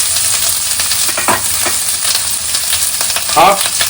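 Onions fry loudly in a pan for bhindi masala (spicy okra), a dense, close hiss with scattered scraping stirs and a brief spatter near the end.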